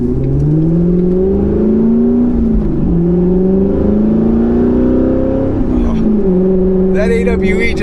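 A C7 Corvette fitted with an AWE exhaust, heard from inside while driving, its loud engine drone climbing steadily through the gears with brief dips at each shift, continuous and close throughout.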